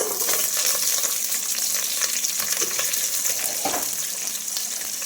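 Onions sizzle and crackle in hot oil for bagara rice, a dense, steady frying hiss with occasional stirring scrapes, loud and close.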